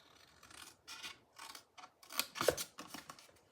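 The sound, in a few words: scissors cutting out a paper treat box template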